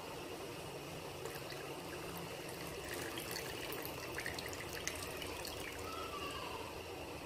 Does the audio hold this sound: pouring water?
yes